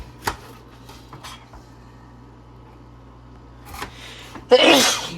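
A single sharp sneeze near the end, loud and close, after a few quiet clicks and knocks in an otherwise still room.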